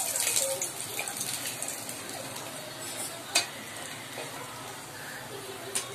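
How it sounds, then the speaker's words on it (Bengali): Bhetki fish bones sizzle in oil in a pan with a steady, fairly quiet hiss, broken by a few sharp clinks of a utensil against the pan; no one speaks. "আরো কিছুটা কাঁটা আছে, সেই কাঁটাগুলোকে ভেজে নিচ্ছি আগে আমি।"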